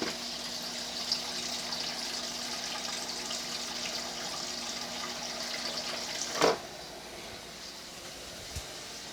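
A cup of water runs and pours in a steady, hissing stream for Jamaican oxtails cooking at home, with a sharp clunk near the end and a small knock just after.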